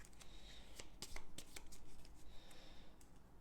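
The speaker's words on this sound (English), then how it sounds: "And finally, can shuffle our cards back again." Cards from the Dune Imperium board game are shuffled quietly, with a series of soft riffling snaps and flutters close by.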